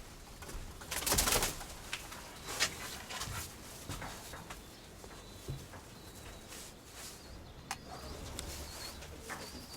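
Steel white-tailed pigeons from a breeding loft coo in low, intermittent calls amid faint rustling and scattered clicks of movement, quiet and close.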